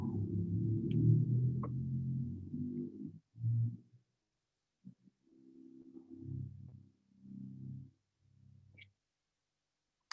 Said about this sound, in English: That's the pedal contrabass.